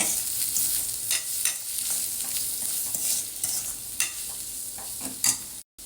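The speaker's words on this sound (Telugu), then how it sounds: "ఉప్పు బాగా ఒకసారి కలిపేసుకుందాం" A spoon stirs sambar powder, turmeric, garam masala, cumin powder and salt into a curry in a hot pan, scraping repeatedly over a steady oil sizzle at close range.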